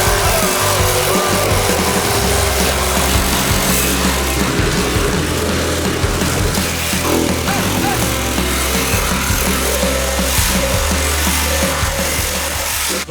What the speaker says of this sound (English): Little trick on cutting with a Sawzall